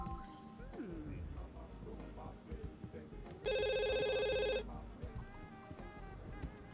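A telephone rings in The Sims 2 video game, one loud electronic trill burst standing out over soft game sounds and a background voice.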